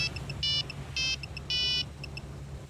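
Mobile phone ringtone: a short melodic electronic pattern of bright beeping tones in three louder bursts separated by quieter blips, heard close and alone over a low background hum.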